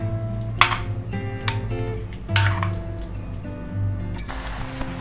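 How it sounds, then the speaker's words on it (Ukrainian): Bigos of smoked meat, sausage and sauerkraut stirred in a pot, with a few scraping clinks of a utensil against the pot and a soft squelching mix between them, close and clear. "Перемішую і залишаю тушкуватися."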